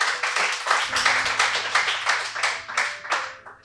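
Audience applause at a Hindi poetry recital, a dense steady clatter of many hands clapping in a hall, sustained throughout with slight surges, no voices over it.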